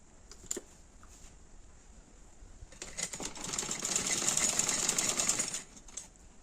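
A sewing machine stitches a side plate frock for a 5-6 year old child in a short, fairly faint burst that builds and then stops, with a few light clicks before it.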